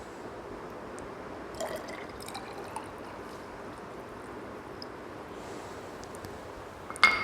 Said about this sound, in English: Now we have to make up the volume with distilled water up to 50 ml.